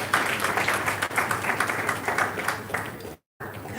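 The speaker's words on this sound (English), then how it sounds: "Can we give the Commissioner another better round of applause?" Audience applause for a Commissioner at a national works council meeting in Kano, a dense steady wash of clapping that fills the room and cuts off abruptly near the end.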